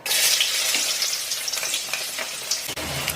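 Onions dropped into hot oil in a frying pan hiss with a loud, bright, continuous sizzle that eases slightly toward the end, close and unaccompanied by talk.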